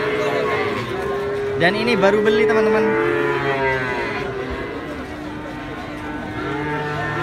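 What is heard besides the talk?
cattle lowing at a livestock market truck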